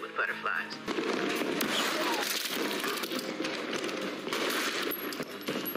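Rapid gunfire from an action scene in the TV series Peacemaker, a dense, sustained burst of shots loud and continuous over several seconds, mixed with voices and other scene noise.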